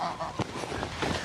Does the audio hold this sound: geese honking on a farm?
yes